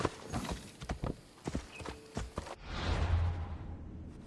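Horse hooves in Assassin's Creed Odyssey clip-clop in a quick galloping rhythm of sharp, distinct strikes, then give way to a rushing whoosh of movement and a low rumble.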